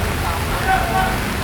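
Heavy rain pours steadily as a broad, dense hiss across a flooded street with children nearby, loud and continuous throughout, with a faint voice murmuring briefly underneath.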